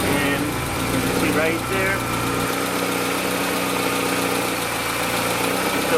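A turbocharged Honda Accord with an F23 engine, leaking oil, fires up and settles into a steady, loud idle with a mid-pitched hum and slight roughness, as someone briefly speaks over it.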